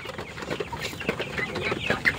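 Chickens on a poultry farm cluck and cackle in a busy, overlapping chorus, with sharper calls rising near the end.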